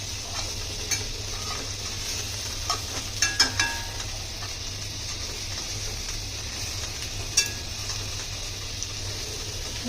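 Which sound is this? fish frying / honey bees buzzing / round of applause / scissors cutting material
fish frying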